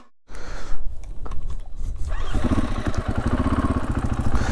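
A dual sport motorcycle engine on a mountain trail climb, starting quietly and rising after a couple of seconds into a loud, steady, rapidly pulsing revving close by, with no speech.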